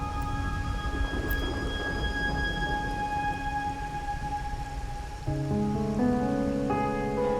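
Rain falls steadily through a night scene in the video game Wuthering Waves, with a low rumble of thunder beneath, while game music tones ring over it and grow fuller toward the end.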